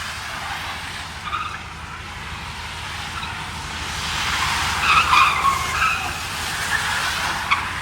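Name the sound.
Dodge Hellcat Redeye one-wheel peel tire squeal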